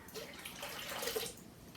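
Water streams into an All-Clad slow cooker for overnight steel-cut oatmeal, a close, continuous pouring splash lasting under two seconds, with no voices.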